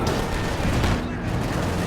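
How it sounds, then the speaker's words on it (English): Dense, continuous battle noise from the World War II strategy game Company of Heroes 2, with explosions and gunfire rolling together into a loud, unbroken roar. "There's just so many explosions going on."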